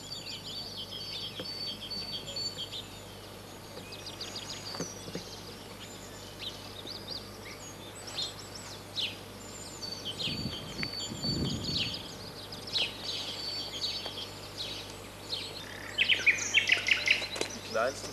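Birds calling at dawn in early-morning wetland woods, scattered chirps and trills near and far throughout, with a denser burst of song at the end and brief low rustling in the middle.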